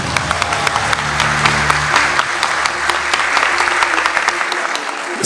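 An audience at a quiz show gives loud, steady applause that fills the room with dense clapping for several seconds, then fades out at the end.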